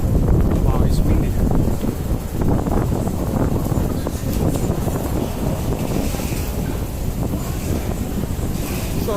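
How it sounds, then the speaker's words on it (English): Strong wind buffeting the microphone in Kowloon, Hong Kong, a loud continuous roar with gusty swells throughout. "Wow, it's windy."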